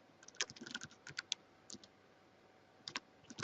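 Keys tapped on a computer keyboard while filling in a web form: quick bursts of light clicking, pausing briefly between bursts, close and fairly quiet with no speech over it.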